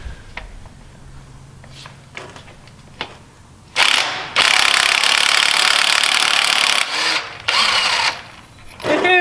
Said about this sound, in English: just to run my 1/2 inch impact